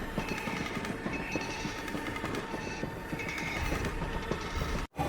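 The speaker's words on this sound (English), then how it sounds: "Look at the train now, completely surrounded by snow." A train running through deep snow, a steady, loud rumble with rhythmic wheel clatter throughout and a brief dropout near the end.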